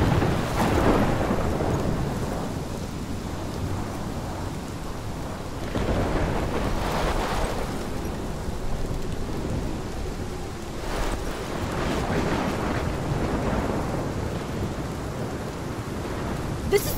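Heavy rain pours and thunder rumbles through a storm in the video game Life is Strange, with rolling booms swelling over a constant wash of rainfall and no talking.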